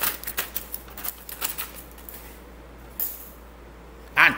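Scissors cut paper into a triangle shape in a series of quick, close, crisp snips, then go quiet before one louder clatter at the end.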